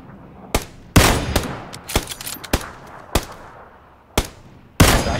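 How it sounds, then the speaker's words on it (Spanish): Sharp gunshots in a video game, isolated single and double cracks fired at irregular intervals against quiet background, loud and close. "Se le he pegado dos tiros."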